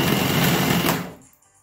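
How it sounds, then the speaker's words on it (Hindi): An electric grinder whirs loudly through a spice masala mixed with chili and coriander powder, a dense buzzing run of about a second that winds down and stops. "अब इसे अच्छी तरह से ग्राइंड करेंगे।"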